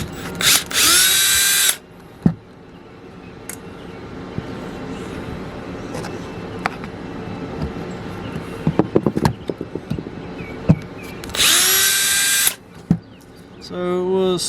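A power drill backs out screws from an RV roof sewer vent, with two loud whirring bursts at the start and near the end and scattered clicks and handling knocks between.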